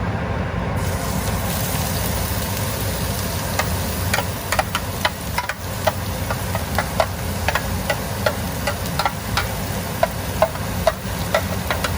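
Onion sizzling in hot oil in a frying pan on high heat with an exhaust fan running, a steady loud hiss broken by irregular sharp crackles and pops throughout.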